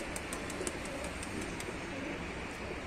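Domestic pigeons coo and take flight outdoors at a pigeon-keeping spot: soft, repeated coos sit under a steady, loud hiss of wind or ambient noise for about three seconds, with no talking.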